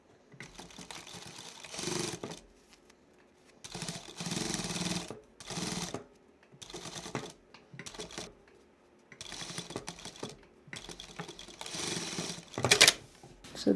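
Sewing machine stitching the folded edge of a cloth bag in repeated bursts, each a quick rattling run of needle strokes separated by short silences, close and fairly loud, with no talking.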